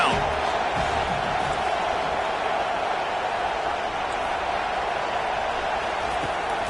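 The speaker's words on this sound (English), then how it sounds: "Decibels rising as the crowd gets behind this defense on third down." A football stadium crowd roars on third down as fans rally behind the defense, a dense, loud, unbroken wall of noise that holds steady throughout.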